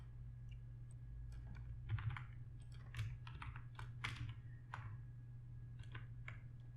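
Typing a DATESBETWEEN function on a computer keyboard for Power BI, with irregular clusters of crisp key clicks over a low steady hum, fairly close and quiet.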